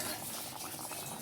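Fish curry bubbling under a lid in a covered pot, a steady close simmer with soft popping and gurgling throughout, no voices.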